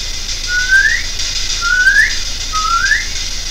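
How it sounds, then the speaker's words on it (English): A person whistles three short rising notes, evenly spaced, clear and close in a quiet room with a faint background hiss. "I'm gonna whistle to any spirits in this room"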